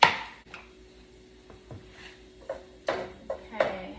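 A knife chops baby bella mushrooms on a cutting board in a handful of irregular, fairly close knocks spaced across a few seconds, with faint kitchen clatter between them.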